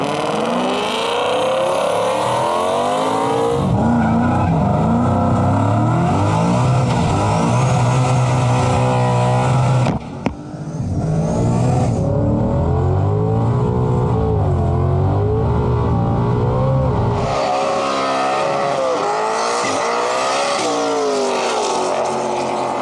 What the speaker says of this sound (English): We got the GT500 new school versus old school Foxbody T56 Coyote swap single turbo.